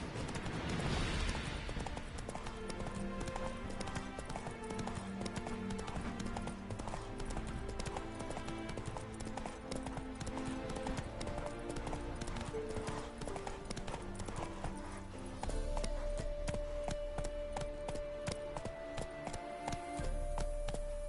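Horse hooves galloping in the Witcher 3 video game, a fast steady clip-clop under game music that carries on throughout.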